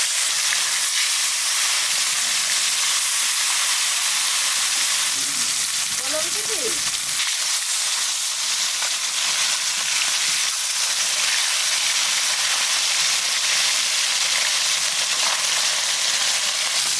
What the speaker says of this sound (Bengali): সরপুঁটি মাছটা লবণ আর হলুদ মাখিয়ে ভেজে নেব